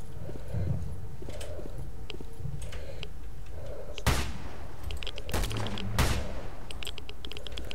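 Gunshots in S.T.A.L.K.E.R. Shadow of Chernobyl: three sharp, loud cracks ring out amid faint footsteps and soft clicking, no talking.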